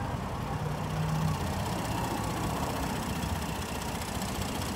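A 2011 Ford F-150 FX4 with a lifted body and a 3.5-liter EcoBoost engine idles steadily nearby, a constant low mechanical rumble with no speech.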